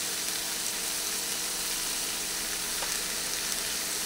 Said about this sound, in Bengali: ক্যাপসিকামটা ভেজে নেব।